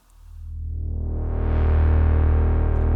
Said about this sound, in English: So in the preset you only have a square and pulse from oscillator 1 and oscillator 2